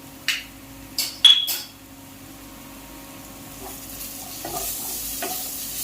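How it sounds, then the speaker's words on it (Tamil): Egg curry masala with chicken masala powder, garam masala and turmeric sautéed in a pan: a few sharp clinks and scrapes of a spoon against the pan early on, then a faint sizzle and soft stirring, close with no speech. "இது நல்லா வதக்கிக்கலாம்."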